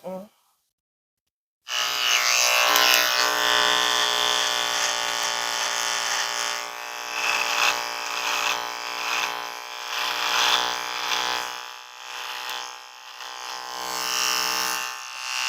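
A cordless electric hair clipper buzzes steadily and close up for several seconds after a brief pause, its tone wavering slightly as it cuts hair in a barbershop, with no speech over it.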